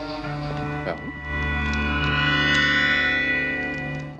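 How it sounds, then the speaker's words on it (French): Tense, eerie horror film score from Friday the 13th Part 2, with sustained droning tones and a swelling effects-heavy texture that grows louder and stays thick and reverberant throughout. "On y va fort tout de suite avec la musique de la peur."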